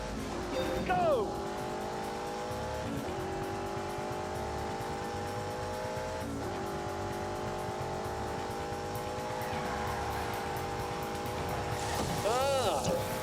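A BMW 8 Series with four-wheel drive and four-wheel steering runs at full throttle in The Grand Tour Game, a loud, sustained engine drone that swells at the start and end, with a voice talking over it.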